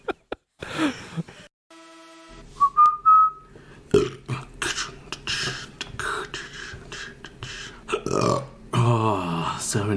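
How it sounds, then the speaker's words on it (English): Repeated burps from a person, several bursts in quick succession with whistle-like tones and loud grunting belches, close and loud, mixed with a few short vocal noises. "Oh, so many burps."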